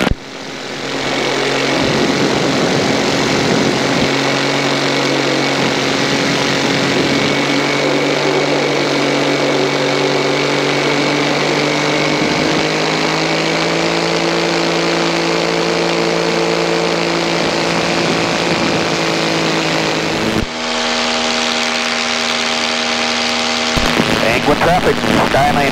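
Inside a Cessna Skyhawk in flight near Napa, the propeller engine drones loudly and steadily with a strong tonal hum, shifting slightly in pitch near the end, while a pilot talks over the radio.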